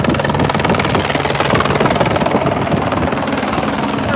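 Helicopter passing overhead during a sailing race in Aarhus, heard from a chase boat: a loud, continuous rotor beat with fast, even pulsing and engine drone throughout.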